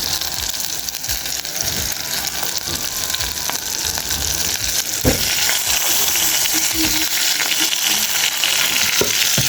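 Cassava and onions frying in a pan, with a steady broadband sizzle throughout and a few soft knocks of stirring or utensil contact.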